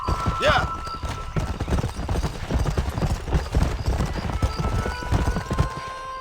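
Horses gallop with steady rapid clip-clop hoofbeats in Red Dead Redemption, loud and close throughout, with brief whinny-like tones near the start and a voice shouting over the riding.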